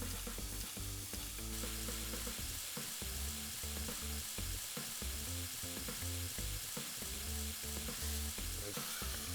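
Food sizzling and frying in a hot pan on a cooking show, a dense steady crackle running throughout with bursts of stirring or shifting, no voices.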